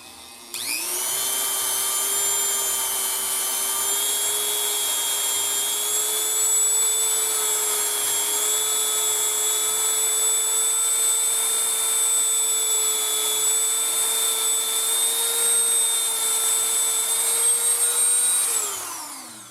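A rotary power tool polishing the hand part of an 1851 Navy single-action revolver gives a loud, steady high-pitched whine that spins up at the start, holds for about eighteen seconds, then winds down.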